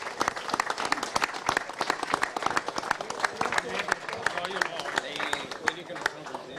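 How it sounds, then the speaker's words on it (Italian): Audience applause fills the hall at an amateur football gala, a dense, steady patter of many hands clapping throughout at moderate volume, with crowd murmur mixed in. "fare un grandissimo applauso a tutti gli sponsor, a tutti i presidenti e tutta gente che si dà da fare con il volontariato, un grandissimo applauso"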